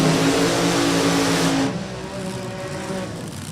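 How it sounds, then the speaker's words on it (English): A supercharged AA Altered methanol drag racing car at Maple Grove Raceway gives a loud, harsh engine roar, then drops abruptly to a lower, quieter rumble partway through. "Sounds like we got a supercharged car coming up."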